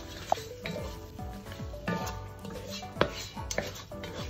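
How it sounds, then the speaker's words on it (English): Seafood frying in a hot pan for seafood fried rice, a steady low sizzle with scattered clinks and scrapes of a utensil stirring against the pan, fairly quiet and close. "Now, let's add all the seafood in here."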